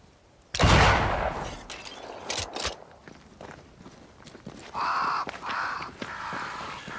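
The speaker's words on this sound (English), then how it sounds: "Crows." Crows caw in a few short calls at a distance in the Banishers: Ghosts of New Eden game, after a loud footstep or thud, with scattered steps and ambient noise around them.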